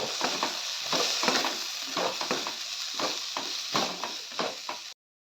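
Cauliflower filling for samosas sautéed with cumin and coriander powder in a pan, a soft sizzle under repeated scraping stirs in an even rhythm, close by, stopping abruptly.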